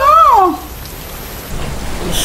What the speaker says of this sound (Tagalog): Ay naku, Steve, baka mabasa ka ng ulan dyan.